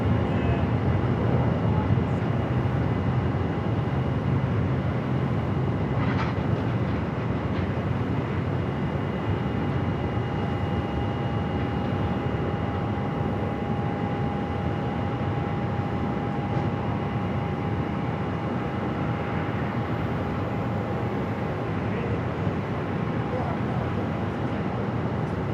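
Airliner departing runway 7 left at Phoenix Sky Harbor, a steady loud low-pitched engine roar with broadband rumble holding constant throughout, a faint tone riding above it.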